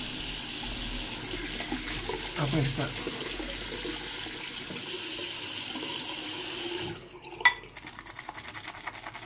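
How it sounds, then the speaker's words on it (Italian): Hot water running from a tap in a steady, close rushing stream that cuts off partway through, followed by a few light clinks, with a voice speaking briefly over it. "Aggiungiamo un po' l'acqua calda"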